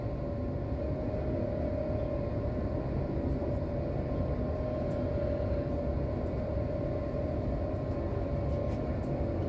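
Steady low rumble of a train rolling along the rails, continuous and even throughout with no voices.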